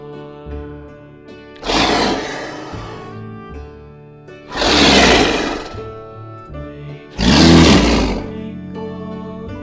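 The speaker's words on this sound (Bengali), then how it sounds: "চয়ে চিতা বাঘের সরু ঠ্যাং" Leopard roar sound effect: three loud, rough roaring bursts spaced a few seconds apart, each rising and fading over a quieter tonal background of music.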